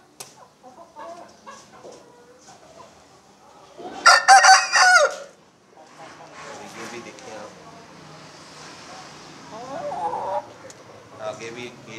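A breeder Aseel rooster crows once loudly and close by, a single strained cock-a-doodle-doo lasting about a second, amid a farm setting with quieter clucks and other fowl noises while someone talks.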